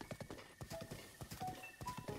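Horse hooves clip-clopping in The Legend of Zelda: Breath of the Wild, a steady run of close, crisp hoofbeats with a brief whinny, heard on their own with no talk.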